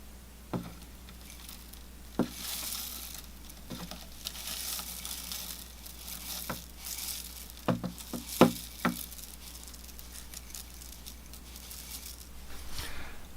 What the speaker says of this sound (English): I'm going to add a thin layer of bonsai soil to the bottom of the pot now.